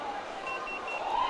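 A food alert beeper sounds during a roller derby home game, giving thin high electronic beeps over an arena's background din.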